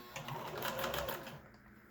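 A home sewing machine stitches a simple medical face mask in a short, close burst of rapid needle chatter that winds down and stops near the end, with no voices.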